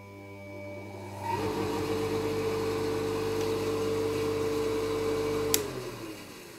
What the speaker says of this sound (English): Here I connected our soft starter circuit with this pump and here is the clamp meter and now I will turn on the power supply